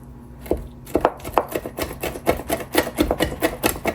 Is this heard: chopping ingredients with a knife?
yes